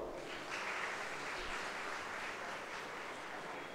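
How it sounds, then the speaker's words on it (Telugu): Applause fills a church on Palm Sunday at a Lutheran church in Tenali: a dense, steady wash of clapping from a large congregation, even and sustained with no break. "మరొకసారి చప్పట్లు కొడదాం"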